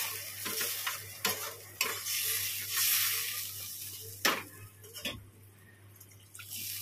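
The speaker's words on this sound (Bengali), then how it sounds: "ব্যাস ঝোলটা একটুখানি ভালো করে টপর টপর করে ফুটুক।" Egg curry gravy simmering in a pan, a steady close sizzle and bubbling with a few louder spoon scrapes and taps, no talking.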